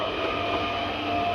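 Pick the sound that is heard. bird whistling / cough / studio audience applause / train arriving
train arriving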